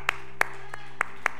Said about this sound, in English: We just want to say thank you and applaud you.